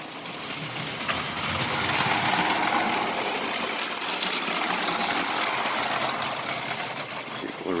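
A small LEGO City subway train runs fast around its track, a steady whirring motor hum with rattling wheels that rises and falls slightly as it passes, fairly quiet and heard alone.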